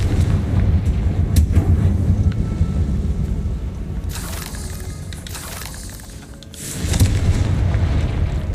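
Fiery explosion from the Confringo spell in the Hogwarts Legacy video game, a loud booming rumble with crackling bursts, dipping briefly before a second blast swells back up.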